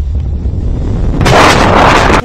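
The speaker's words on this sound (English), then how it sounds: "Why is there explosions everywhere?" A loud, rumbling blast of explosions in the video game Halo: Reach erupts after a low background roar, a dense burst of booming noise that cuts off abruptly.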